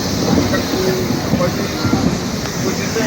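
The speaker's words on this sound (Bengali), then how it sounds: "অর্ধেক জায়গা থেকে লাইন চেঞ্জ হয়ে যাচ্ছে প্ল্যাটফর্মে ঢুকে" A Santipur local train rumbles steadily as it switches lines and enters a platform, with a continuous loud roll of wheels, faint clicks and brief squeals.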